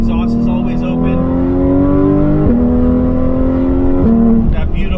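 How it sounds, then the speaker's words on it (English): A Porsche 911 GT3 RS with a GMG side muffler delete exhaust and PDK gearbox revs hard and loud up close, its rising engine note cut by two quick upshifts. "with the corner balance alignment, along with the GMG side muffler delete to give it that perfect sound"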